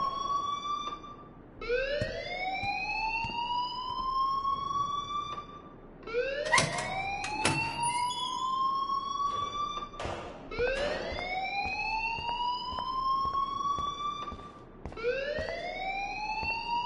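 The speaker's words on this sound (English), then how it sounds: "please turn off that alarm since that's your job" An electronic alarm wails in repeated rising sweeps, about five cycles with brief gaps between them, loud and piercing, with a few short clicks and bursts over it.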